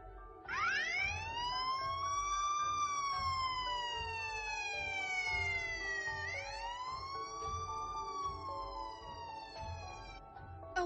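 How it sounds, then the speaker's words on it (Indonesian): A police siren wails steadily, rising and falling in long sweeps, loud and close, with a low rumble of traffic beneath. "Tak lama, terdengar sirine mobil polisi."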